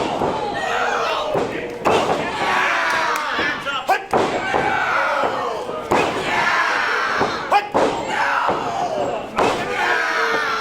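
A loud crowd cheers and shouts at a live wrestling match in a packed indoor venue, with repeated thuds and slams from the ring cutting through the steady roar and a commentator talking over it.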